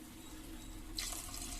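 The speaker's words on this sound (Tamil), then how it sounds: "இப்போ 2 டம்ளர் ஆட் பண்ணிவிட்டு அரிசி ஊற வச்சுருக்க தண்ணியும் எடுத்து ஊற்றிடலாங்க." Water poured into soaked rice in a pressure cooker for sweetcorn pulao, a steady close splashing stream that grows brighter partway through, heard alone for a moment.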